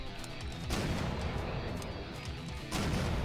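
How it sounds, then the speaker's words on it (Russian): Explosions in the video game Octogeddon burst in a loud, dense rumble of crashing blasts, with a second heavy impact hitting near the end. "Так, взрыв."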